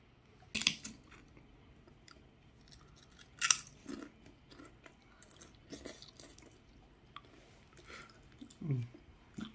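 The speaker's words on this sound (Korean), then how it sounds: "제가 만든 오지치즈 후라이를 먹어볼게요" Chewing of homemade cheese fries with bacon, a few crisp bites and moist mouth sounds spaced out, close and fairly quiet.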